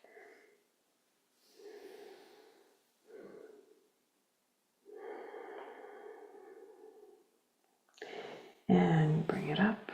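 Deep, audible breaths during a guided movement exercise, several slow airy inhales and exhales close to the listener, ending with a louder, rougher rush of breath.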